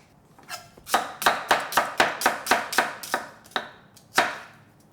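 Knife chopping onion on a cutting board while cooking Korean squash and beef over rice: a steady run of about a dozen crisp, close, evenly spaced chops, then a pause and one last cut, with no talking.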